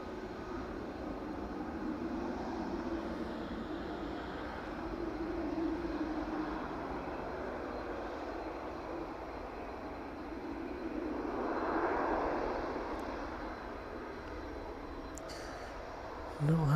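Beechcraft aircraft taxiing back in at East Midlands Airport after a U-turn, a faint, steady engine drone with a soft swell near the middle and a brief bump at the end.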